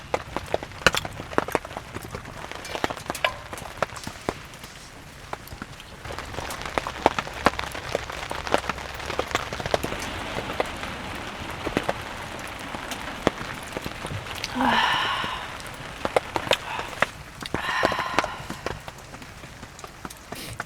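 Rain falls outside a shelter on a cold night, a steady patter with sharp irregular drips and taps striking a surface close by; a brief voice-like sound rises twice near the end.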